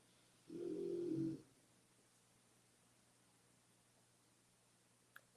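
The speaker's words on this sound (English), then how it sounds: "Moose is snoring." Moose the pet snoring in one soft, low, rumbling breath of about a second near the start, followed by quiet room hiss and a faint click near the end.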